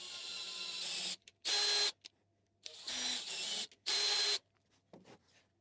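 A cordless drill with its clutch turned down drives a tap into holes in a metal steam engine part, giving four loud, steady whirring bursts separated by short pauses, close and without talk.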